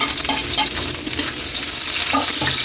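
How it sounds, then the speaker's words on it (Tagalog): Garlic and onion sizzle steadily in a hot pan alongside ginger while being stirred, a dense continuous frying hiss with a few scraping stirs, close and fairly loud. "Lagay na natin yung bawang at sibuyas."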